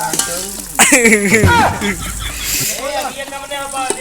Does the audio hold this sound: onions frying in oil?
yes